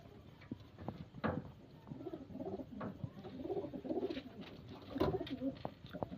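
Big-sized kaldum pigeons with sugar-coloured beaks cooing close by in a home loft, soft rolling coos repeating in rising and falling phrases over faint background noise.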